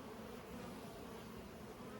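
A large hive of honeybees produces a constant, thick droning buzz, uniform and unbroken, fairly quiet and close, with nothing else heard.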